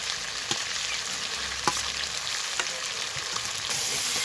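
Vegetables with onion stalks and spices sauté in a pan, giving an even, close frying hiss broken by a few sharp spoon clicks while stirring.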